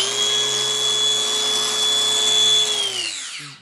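A new Hilti cordless angle grinder whines at a steady high pitch, close and loud, then spins down as the motor cuts out near the end.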